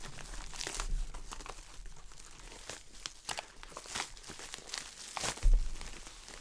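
Used Elgato Stream Deck XL being unwrapped, its packaging crinkling and tearing in repeated close bursts, with a sharper rip near the end and no talking.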